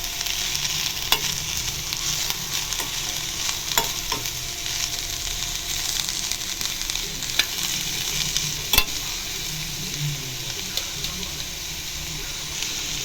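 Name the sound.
stir-frying beans and carrot in oil with salt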